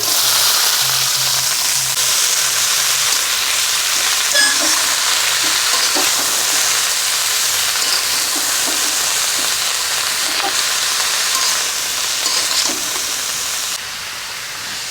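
Cabbage frying with fried onion and ginger-garlic paste gives a steady, close sizzle with occasional stirring scrapes, continuous throughout.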